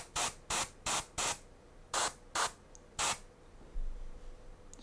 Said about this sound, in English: Spraying back here at the back of her dress.